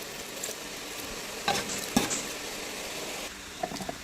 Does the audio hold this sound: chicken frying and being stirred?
yes